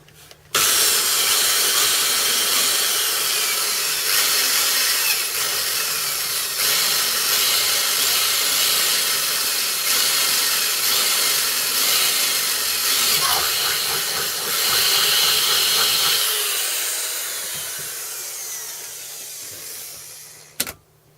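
A drill bores a small hole in a motorcycle hugger bracket, giving a loud, continuous high-pitched whine that holds for most of the clip, then tapers off and ends with a brief clunk.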